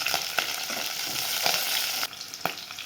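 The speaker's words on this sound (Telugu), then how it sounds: "పచ్చిపకాయలు వేసుకున్నాం ఇవి కూడా ఫ్రై కానిద్దాం" Green chilies and onions fry in a hot pan with a dense, continuous sizzle, broken by a few sharp stirring scrapes and a drop in intensity partway through.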